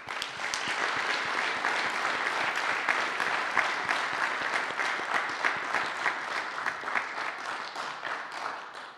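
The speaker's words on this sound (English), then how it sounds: "A round of applause for that." An audience at a Seattle literary and music stage event claps in sustained applause, many hands producing a dense crackle that holds steady before gradually thinning toward the end.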